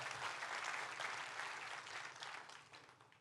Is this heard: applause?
yes